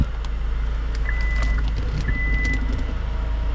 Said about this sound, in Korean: 트렁크도 한번 닫아볼까요?